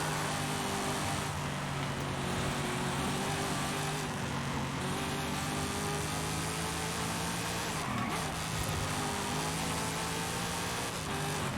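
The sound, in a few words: 2009 Chevy Corvette ZR1 driving in video game Forza Horizon 5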